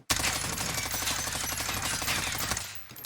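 Sustained rapid automatic gunfire from a suppressed weapon fitted with the agency suppressor in Warzone, a dense, even burst of muffled shots lasting nearly three seconds before cutting off.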